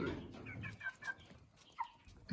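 Chickens cluck close by in short, bubbly bursts, a few soft calls spaced irregularly with quiet gaps between them.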